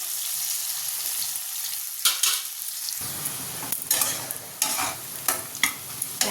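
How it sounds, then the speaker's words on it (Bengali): Onions frying in a wok for an egg curry: a steady close sizzle with repeated scraping stirs that grow louder and more frequent in the second half. "পেঁয়াজগুলো আগে লাল লাল করে ভেজে নেব"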